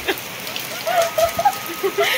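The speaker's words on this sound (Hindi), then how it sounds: "फिर से बहुत तेज बारिश शुरू हो गई है" Heavy monsoon rain pours steadily on a hillside home, a dense hiss of drops with scattered louder splashes and faint tonal sounds underneath, no one speaking.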